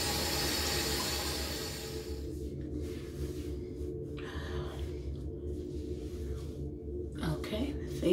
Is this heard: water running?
yes